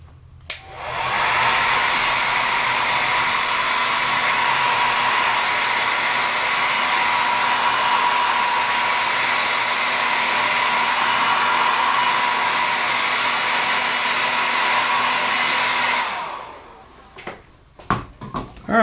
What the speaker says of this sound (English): we're gonna start with the dryer